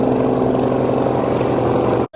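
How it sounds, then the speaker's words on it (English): Helicopter noise: a loud, steady, close droning rotor and engine hum with a rhythmic throb that holds for about two seconds and then cuts off abruptly. "This is what a helicopter sounds like."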